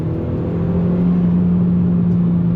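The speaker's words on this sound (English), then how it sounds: "You hear that little whine of the turbo" A 2002 Audi TT 1.8T Quattro's engine drones steadily under acceleration, with a thin high turbo whine riding over the low hum, close and constant.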